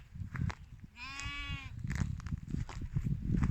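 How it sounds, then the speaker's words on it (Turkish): A single Kilis-Aleppo cross goat bleats clearly for about a second, a wavering nasal cry, surrounded by rustling and shuffling noise from nearby sheep and goats. "Hatta kilis Halep kırması keçileri de var arkadaşlar."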